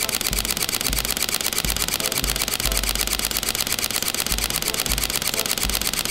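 Rapid burst of camera shutter clicks from a DSLR or mirrorless camera, a steady dense rattle of mechanical clicks running continuously and fairly loud throughout.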